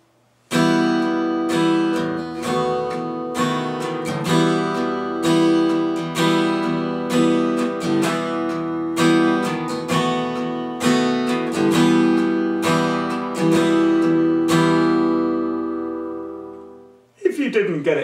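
A guitar strums a series of chords in a steady rhythm, loud and close, ending on a ringing final chord followed by a brief pause and a few more strums.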